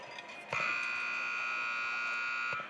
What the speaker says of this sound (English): that sound is the 8-second whistle